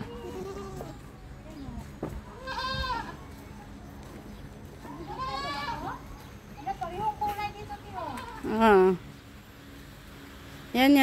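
Several goats of mixed breeds, including Dalmatian-spotted ones, bleat at a livestock farm, with loud harmonic cries near the middle and end over steady chatter and people talking nearby.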